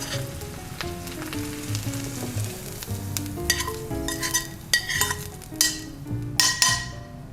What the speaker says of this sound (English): now I'm gonna add the onions with the oil